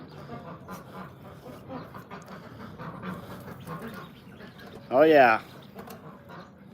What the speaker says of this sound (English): The big ducks love the tomatoes,